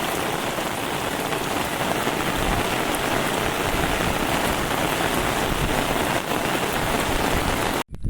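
Heavy monsoon rain pours steadily in Konkan on an open upland where cattle graze, a dense, loud, close hiss of drops hitting the ground that stops abruptly at the very end.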